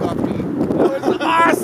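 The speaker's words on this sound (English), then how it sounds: "it is so fucking windy out there right now" Strong outdoor wind buffets the microphone in a steady low roar through the whole stretch, with a voice talking over it near the end.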